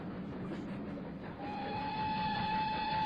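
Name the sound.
boat train arriving at station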